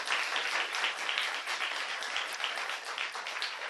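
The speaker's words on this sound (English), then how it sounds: "I'm also going to ask the audience to hold their applause." Audience applause fills a San Diego county public meeting: dense, steady clapping from a sizeable crowd, sustained at an even level for several seconds with no speech over it.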